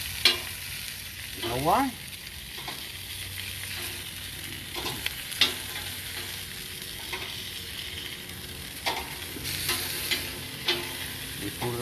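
Spicy sausages sizzle on a BBQ, with a steady hiss and crackle throughout and a few metallic scrapes and taps. Someone speaks briefly over the cooking.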